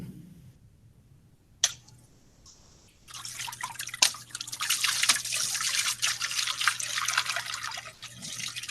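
Water trickling and dripping from holes poked in a container during an Ohm's law lab demonstration. A few faint drips come first, then a continuous close splattering trickle.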